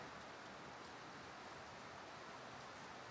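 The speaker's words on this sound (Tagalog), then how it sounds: "ang lakas ng ulan" Heavy rain pours near a house terrace in the Philippines, a dense, unbroken hiss of drops hitting surfaces that stays even and steady throughout, with no voices.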